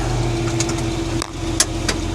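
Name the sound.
tractor engine starting and idling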